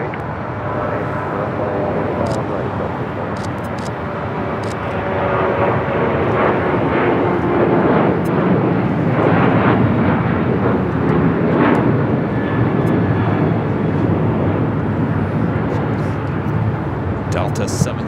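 An airliner at LAX on runway 25 right roars steadily with broadband jet engine noise that swells and holds loud throughout, while tower radio chatter comes through over it.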